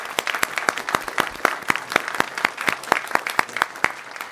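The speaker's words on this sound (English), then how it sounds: "So let's give them a round of applause as well." A small audience at a state board meeting claps, sparse individual hand claps in a loose, fairly close rhythm with no talking.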